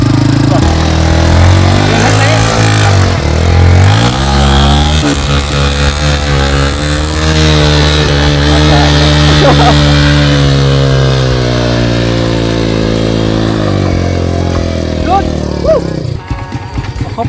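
Motorcycle engine revving steadily and loud on a rainy forest trail, its drone rising and falling throughout with people talking over it.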